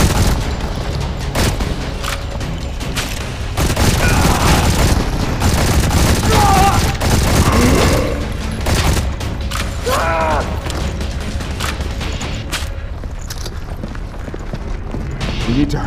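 Gunfire in the mobile shooter Modern Combat 4: Zero Hour, repeated sharp shots and rapid bursts scattered across the span, loud over battle noise, with voices shouting in between.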